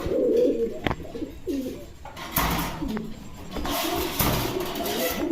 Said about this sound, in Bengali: এখানে আছে একজোড়া দামাসিন কবুতর